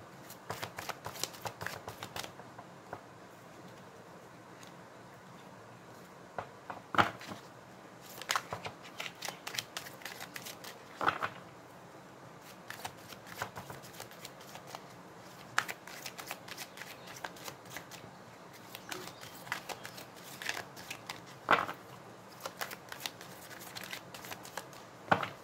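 Tarot cards get shuffled over and over close by, each round a quick, crisp riffle of flapping snaps over a quiet room, repeating in bursts for the whole stretch.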